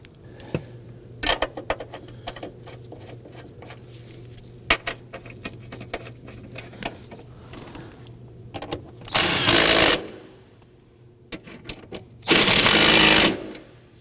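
Power tool driving the front seat bolts into a 2003-2014 Volvo XC90 during fuel pump module replacement, two loud sustained whirring bursts near the end after scattered clicks and clanks of handling parts.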